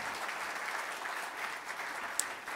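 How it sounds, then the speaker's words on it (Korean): A church congregation claps in warm, even applause to welcome a pastor and his wife to the front, a brief steady patter of many hands at moderate volume. "우리 박수로 격려해 주시죠."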